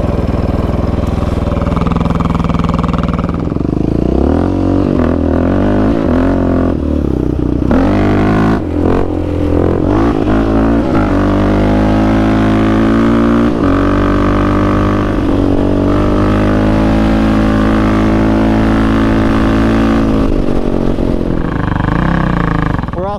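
A Kawasaki KFX450R and a Yamaha Raptor 700 quad roar along a trail, engines loud and close, revving up and easing off repeatedly with rattling clatter over the terrain for the whole stretch.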